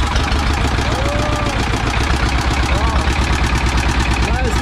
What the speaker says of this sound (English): He's turning on the engine.